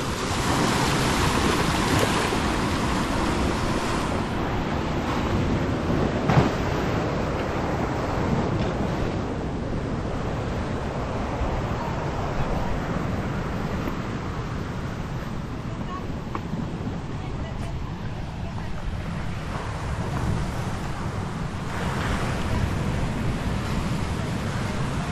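Waves wash continuously onto the sand at Pantai Kaul beach near a river mouth in Kampung Igan, Mukah, Sarawak, a steady broadband surf roar with wind buffeting the microphone, with no breaks across the whole stretch.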